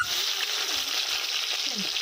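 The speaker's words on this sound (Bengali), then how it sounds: "পেঁয়াজ ক্যাপসিকাম একসঙ্গে ভাজা হচ্ছে।" Onion and capsicum frying together in a pan, giving a steady broadband sizzle that stays close and even throughout, with a few faint scrapes or stirs underneath and no speech.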